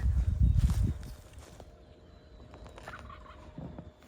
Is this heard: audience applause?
no